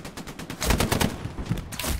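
Machine gun fire in a realistic military shooter game comes as rapid, loud bursts of automatic shots with a short pause between volleys, close and booming.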